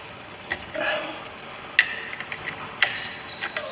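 A tool undoes screws around the mini sump of an engine at its first service, giving a few sharp metallic clicks and ticks spread over a few seconds against a low background hum.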